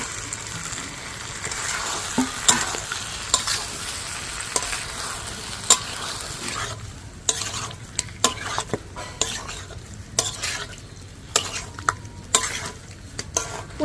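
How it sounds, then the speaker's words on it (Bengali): Fried potatoes stirred into oily masala in a pan for a vegetarian aloo dum make a continuous loud sizzle, with a spatula scraping and clicking against the metal in frequent, uneven strokes. "ভেজে রাখা আলুগুলো দিয়ে দিচ্ছি"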